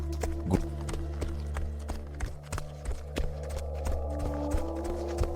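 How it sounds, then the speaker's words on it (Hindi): Horse hooves clip-clop in a steady rhythm on a hard surface with a low hum underneath; a neigh is not clearly evident. "घोड़ा हिनहिनाया, उसके पांव कांपने लगे।"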